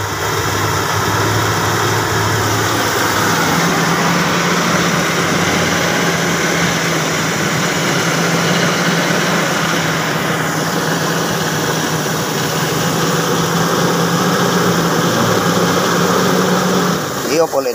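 A stored engine idling steadily at about 1,000 RPM after conditioning, a loud, constant drone with vibration, and speech mixed in.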